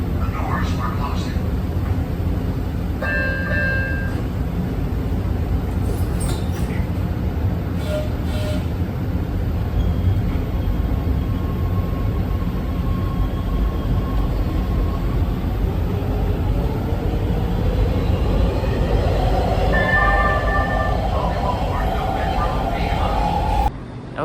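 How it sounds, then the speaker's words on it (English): An LA Metro B line subway train rumbles at Union Station in downtown LA, a steady close mechanical drone with brief squeals and a rising whine near the end, while people talk over it. "We just got off that red line train right there, sorry, B line train right there"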